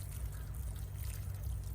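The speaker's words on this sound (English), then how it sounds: "as that water is passing through it, it's going to carry the soil to those low places and cause it to level out" Water poured onto garden soil in a backyard food forest in Central Florida, draining through as the soil settles: a steady, close, low rushing pour that continues unbroken and fairly quiet.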